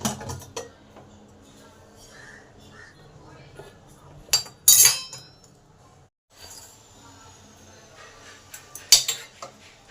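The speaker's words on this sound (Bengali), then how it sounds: "এবার ঢাকাটা খুলে দেখি কি অবস্থা।" A pressure cooker of bhog khichuri has its lid opened after cooking, giving sharp metallic clinks and clatters in two brief bursts amid quiet kitchen rustling.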